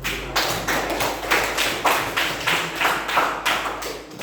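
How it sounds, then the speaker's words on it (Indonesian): A classroom of students claps their hands together on cue from the teacher, about eight loud, evenly spaced claps in unison at a steady beat, with no talk over them. "Oke, tepuk tangan."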